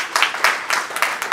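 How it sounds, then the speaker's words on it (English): Applause breaks out from an audience honouring the women present, with bursts of clapping rising and falling in quick waves across the room, fairly loud and close. "so I think you deserve a wonderful round of applause."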